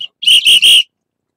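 Three short, bright whistle bursts in quick succession, loud and close, with a brief higher chirp before them and silence after.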